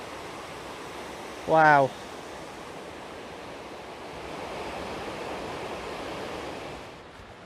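Water pours over sheer stone at a natural weir on a stream, a constant broad rushing wash heard up close, with a brief exclaimed word from a person partway through.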